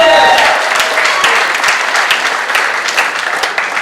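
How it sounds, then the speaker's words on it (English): A comedy club crowd at Helium in St. Louis applauds loudly and steadily as a stand-up comic is brought on, with a faint cheer under the dense clapping. "applause going for your next comic"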